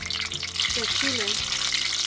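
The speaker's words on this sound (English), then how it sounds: "are you cooking it? Yes, frying it." A cheese-filled chile in egg batter fries in hot oil in a pan, a loud, continuous crackling sizzle close by with a few brief voiced sounds underneath.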